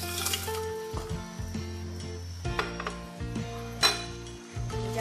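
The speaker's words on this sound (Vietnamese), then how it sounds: "Cho đường phèn vào nha." Chunks of rock sugar dropped into a pot of boiling water for passion fruit jelly make several clattering knocks and scrapes over a bubbling sizzle, loud and close.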